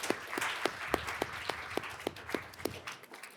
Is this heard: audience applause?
yes